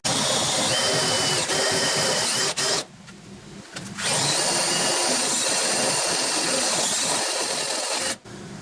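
A power drill bores a one-inch hole into a Jeep Cherokee XJ unibody, whining loudly and steadily, pausing for about a second midway, then resuming before a brief stop near the end.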